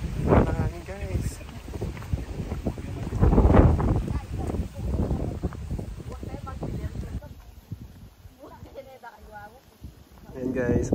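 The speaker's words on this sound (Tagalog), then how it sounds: "Mahangin, guys." Gusty wind on Tila Pilon Hills in Doña Remedios Trinidad, Bulacan, buffets the microphone in low rumbling surges while a person talks over it, easing briefly before rising again.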